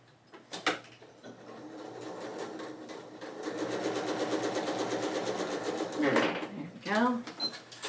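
A sewing machine stitching a quilt block seam, a fast even run of needle strokes building over several seconds, fairly close, with a person talking before and after.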